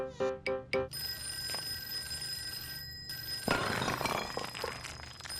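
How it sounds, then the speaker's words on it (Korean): In the quiz video game Fork Road, a telephone bell rings in three quick loud bursts, followed by a quiet hum and then a sudden crash of something breaking. "몇 번이 전화벨이 울렸나요?"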